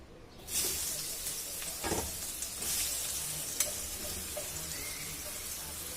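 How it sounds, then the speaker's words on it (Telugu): Thinly chopped ridge gourd pieces go into hot oil over a medium flame and set off a steady, close sizzle and hiss, with a few soft stirring knocks and no talking. "మనం సన్నగా తరిగి పెట్టుకున్నాం కదా బీరకాయ ముక్కలు, అవి ఇందులో వేసేసుకుందాం"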